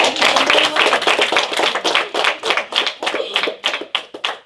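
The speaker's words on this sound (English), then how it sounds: "yeah, you can give them a clap." A small group of students claps for debaters at a school debate event, a brisk, uneven burst of individual hand claps nearby that thins out toward the end.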